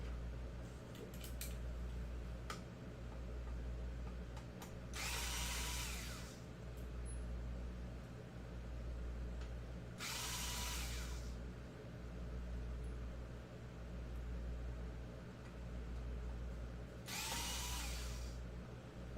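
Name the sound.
removing small screws from an Xbox 360 Slim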